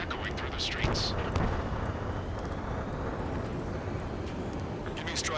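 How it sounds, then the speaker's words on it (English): Jet roar and gunfire rumble through city streets under martial law in the Ace Combat 7 video game, a dense, sustained low roar with scattered bursts and hissy high swells across the whole span. "Gunfire and the roar of jets echoing through the streets."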